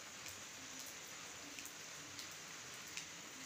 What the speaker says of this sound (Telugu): వర్షం ఒకటే పడుతుందండి